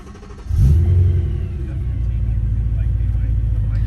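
A BMW E92 M3 with a naturally aspirated V8 cranks and fires up, catching with a loud burst before settling into a deep, steady rumbling idle close to the microphone.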